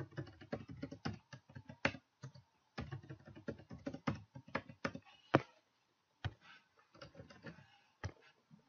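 Quiet, irregular bursts of computer keyboard keystrokes as a password is typed, clicking in quick runs with short pauses between them, close by and without any voices.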